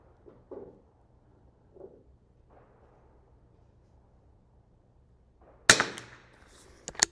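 A Bergara BMR-X .22lr rimfire rifle fires outdoors: faint pops early on, then one sharp, louder crack near the end followed by another brief shot, with quiet background between.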